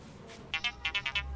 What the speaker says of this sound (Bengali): আমি হাকাম ভাইকে ফোন দিই।